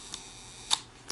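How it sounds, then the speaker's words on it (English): A Contax IIa rangefinder camera gives three crisp, close mechanical clicks in quiet surroundings as its shutter is cocked and fired, with one click standing out more sharply than the others. "You can adjust the shutter speed before or after you cock the shutter."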